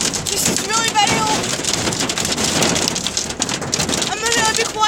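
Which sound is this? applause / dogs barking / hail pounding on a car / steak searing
hail pounding on a car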